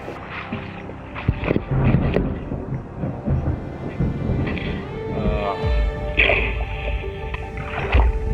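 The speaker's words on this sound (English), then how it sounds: "I hear thunder." Low rumbles of thunder roll through the distance in the Amazon jungle amid wind and outdoor noise, with a few sharper cracks and booms spread across the stretch.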